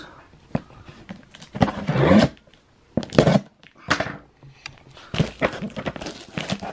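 Blade cuts open a Hot Wheels package in a series of close, scattered snips, scrapes and plastic crinkles with short pauses between them.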